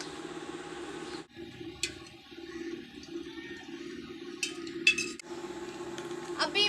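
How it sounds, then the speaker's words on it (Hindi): A spoon stirs salt into food in a metal pot in a village kitchen, producing faint scraping and intermittent clinks over a low background hum, with louder clatters toward the end. "अभी इसे दोबारा से एक दफ़ा ऐसे मिक्स करती हूँ ताकि नमक भी इसमें मिक्स हो जाए"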